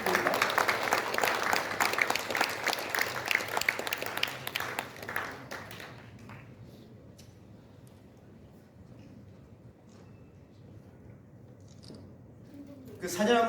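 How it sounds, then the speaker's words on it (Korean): Applause from the audience at a national founding anniversary award ceremony rings out fairly loud for about six seconds, then fades to a quiet room with scattered faint sounds and a brief return of noise at the end. "한 박수 부탁드립니다"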